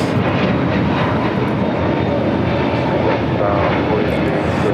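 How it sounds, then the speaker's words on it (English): JetBlue Airways Airbus A321neo taking off from LAX bound for JFK, a steady loud engine roar with voices talking over it. "A321neo with JetBlue Airways taking off to JFK flight 2024"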